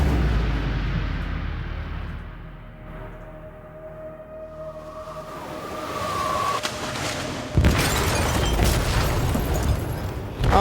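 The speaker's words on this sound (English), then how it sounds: "They detonated an explosive in the hold" In Detroit: Become Human, an explosive goes off in a ship's hold. A deep rumbling boom swells and fades, a tonal whine rises, and then a sudden loud burst of crashing debris follows.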